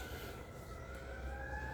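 An ambulance siren wails faintly in the distance, its tone sliding slowly upward over a low rumble of traffic.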